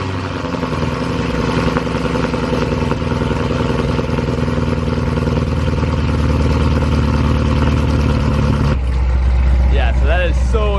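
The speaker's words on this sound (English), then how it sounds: "I'm gonna try putting you guys on top of the BMW over here, seeing if we can't capture the sound of the exhaust a little better." A Corvette Z06 exhaust rumbles at a cold start, loud and close-up with a steady, dense idle drone; the tone shifts near the end as faint chirpy sounds join in.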